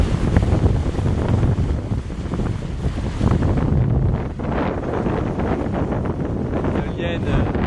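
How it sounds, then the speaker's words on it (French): Strong wind of about 20 knots roars over the microphone aboard a Lagoon 380 sailing catamaran at sea, a continuous loud buffeting gust mixed with wave wash and a faint voice underneath. "on est à 20 nœuds de vent"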